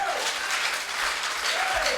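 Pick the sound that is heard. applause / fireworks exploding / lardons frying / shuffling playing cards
applause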